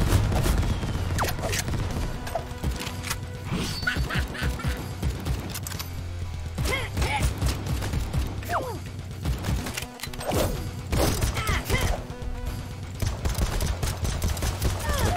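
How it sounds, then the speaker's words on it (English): Rapid gunfire in the video game AK-XOLOTL: quick bursts of sharp shots in busy clusters, mixed with quacking and honking game creature sounds and other effects, with someone talking intermittently throughout. "I shoot faster with this one"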